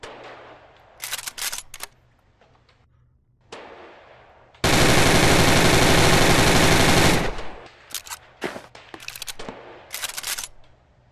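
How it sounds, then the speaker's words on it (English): MPX submachine gun in the Gun Club VR game: a long, loud, sustained burst of automatic fire lasting a couple of seconds, with shorter clicks and mechanical handling sounds before and after. "MPX. Basically, the submachine gun version of the MCX"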